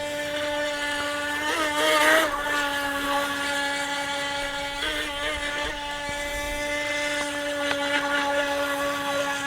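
A small Intey H102 high-speed RC boat running on water, its electric motor whining steadily in a constant high-pitched drone with slight rises in pitch as the throttle shifts, heard from a distance.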